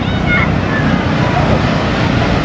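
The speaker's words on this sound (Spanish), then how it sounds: "Es muy peligroso, las olas son muy fuertes." Strong ocean waves at the beach at La Misión, Baja California: a loud, continuous wash of surf and wind roaring across the whole stretch, with faint voices in the background.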